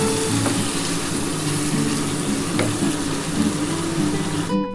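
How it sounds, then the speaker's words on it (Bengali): Hot water poured into a pot of spicy mutton curry sets off a loud, steady sizzle and bubbling hiss that carries on close by. "আমি এই গরম জলটা হালকা করে ঢেলে দিচ্ছি"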